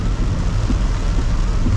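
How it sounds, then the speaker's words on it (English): Heavy rain drums on a car windshield during a flooded drive through Taipa, Macau, a dense steady roar with low engine rumble beneath, close and loud, no voices. "how fast the rain is hitting the windshield"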